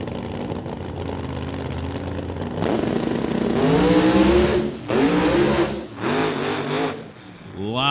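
A drag racing car makes a run at an outlaw shootout, its engine roaring at a distance with rising, wavering revs that stutter and break as the tires shake, under a commentator's voice.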